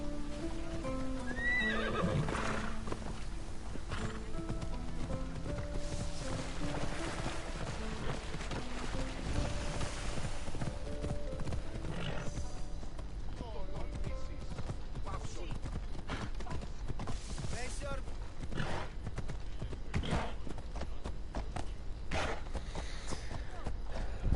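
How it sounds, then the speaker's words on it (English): A horse in Assassin's Creed Odyssey neighs and whinnies repeatedly over steady clip-clopping hooves, with a continuous background bed and game sounds throughout the long stretch. "just get off the horse"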